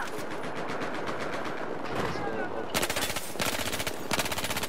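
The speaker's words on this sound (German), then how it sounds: "viel Spaß mit den letzten Kills auf dem Weg zum Service da mit der CZ3A1 Maschinenpistole" Gameplay audio from Battlefield 4 of a CZ-3A1 submachine gun firing rapid automatic bursts, close and loud, with a sustained rattling stream followed by shorter bursts, mixed with battle noise and faint speech.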